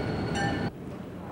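Train noise at a station: a steady broadband rumble with a brief high metallic squeal or ringing tone that stops abruptly, followed by quieter ambient hum.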